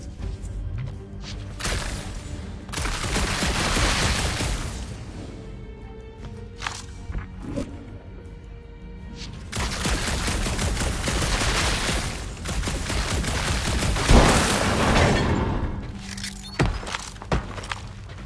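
Gunfire in the Guardians of the Galaxy video game, dense bursts of rapid shots and impacts in long loud stretches, with quieter gaps and a few heavy thuds between them.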